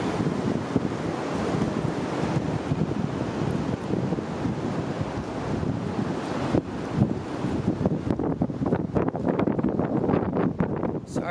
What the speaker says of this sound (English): Sorry about the wind, but I can't do nothing about that.